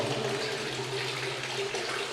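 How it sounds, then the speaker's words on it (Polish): Continuous splashing water pours steadily, a constant close rush of a small underground waterfall in a flooded hard coal mine drainage tunnel, with no voices. "Tutaj mamy mały wodospad"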